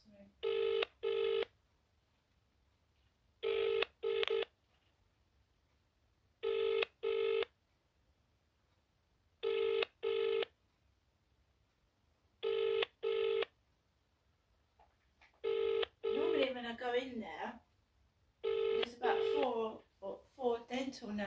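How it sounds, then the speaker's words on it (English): A dentist's telephone line rings unanswered in regular paired bursts, about eight times, clear and even, and someone talks between the later rings. "The phone's not answering."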